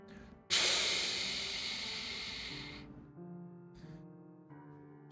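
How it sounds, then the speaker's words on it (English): A sudden loud burst of steam hissing in the game Arknights, gushing for about two seconds and then fading, followed by quieter tonal game sounds. "The sound of steam."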